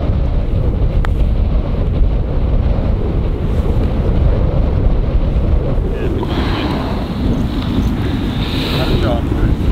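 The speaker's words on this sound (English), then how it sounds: "it is pretty windy, isn't it?" Strong gusting wind buffets the microphone outdoors on a golf course during a winter league match, a loud continuous low roar that surges and eases without a break; a brighter hiss rises toward the end.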